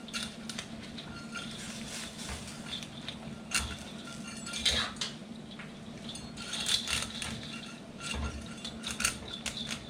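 A utensil scrapes and pushes pancit noodles down into broth in a pan on low heat, giving a steady soft rattle and patter with occasional clinks, close and continuous with no talk.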